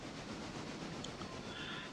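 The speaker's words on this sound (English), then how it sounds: "while the train is in the process of going back to the rail yard here" A freight train rolls along in the railway simulation game Railroader, a steady rumble of railcars with soft clickety-clack and a faint wheel squeal, continuous and moderately loud with no talking.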